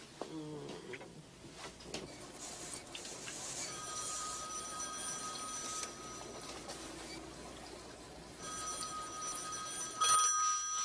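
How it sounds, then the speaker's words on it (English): A telephone rings in a quiet room, its electronic bursts repeating at moderate loudness over faint background noise, with no speech. "answer the phone."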